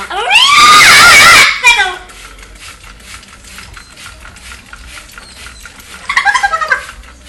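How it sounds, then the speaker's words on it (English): A pet bird squawks at bath time while being misted with water, a loud burst of shrill screeching up close, then a quieter spray hiss, and another short run of chirpy squawks near the end. "She's just squawking."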